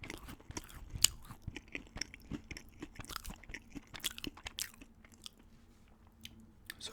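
Crunchy biting and chewing of Froot Loops flavored Pop-Tarts pastry, close and soft, a steady run of small crisp crunches and mouth sounds with no talking.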